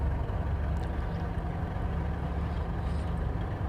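Twin engines of a Cessna 414A idle at 1000 RPM in a flight simulator cockpit, a steady low droning rumble with an even pulse, continuous and close, with no talk.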